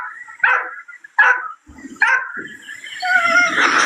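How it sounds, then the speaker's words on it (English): Dogs barking in three sharp, close barks at a steady rhythm, then whining and yipping that rises into a louder, sustained cry. "You would have heard all mine bark"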